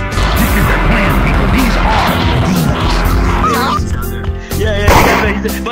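Heavy cannon blasts boom through a dense, chaotic battle din, with a loud burst standing out near the end.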